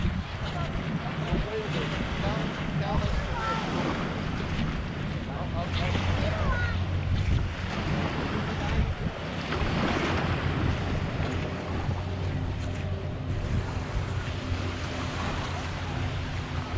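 Surf washing onto a Cancun beach near beachfront condos, a steady broad roar of breaking waves with wind buffeting the microphone, continuous and fairly loud throughout.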